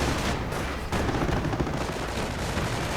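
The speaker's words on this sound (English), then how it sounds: "2 auto cannons with MGs firing" Autocannons and machine guns fire in a World War II strategy video game, a dense continuous clatter of overlapping rapid shots and distant booms without a break.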